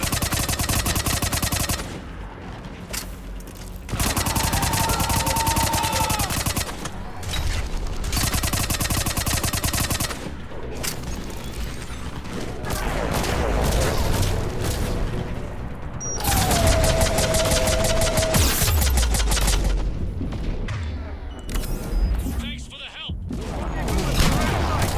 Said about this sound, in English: Stop shooting at that guy.